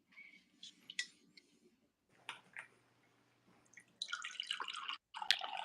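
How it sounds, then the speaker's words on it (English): Coffee pours into a cup at home beside a Breville Precision Brewer, with a few faint drips and splashes early on, then a brief steady trickle of liquid near the end. "My mother-in-law is pouring herself a cup."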